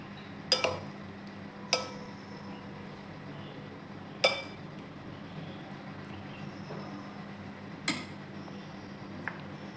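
A spoon clinks sharply against a bowl a handful of times while turmeric, chili powder and masala are mixed in, the taps irregularly spaced over a quiet background.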